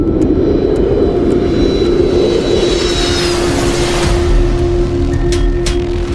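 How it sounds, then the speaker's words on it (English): Jet airliner engines spool back up after restarting and carry the aircraft into a climb, a loud broad roar with rising whine tones that holds steady throughout. "The aircraft climbs, slowly and cautiously, away from the mountains below."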